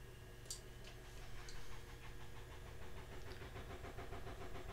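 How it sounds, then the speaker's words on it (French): HP ProDesk Pentium G desktop PC running noisily, a constant low mechanical drone with faint ticking, quiet and close, under some soft game sounds. "Il y a ma machine, elle fait un boucan"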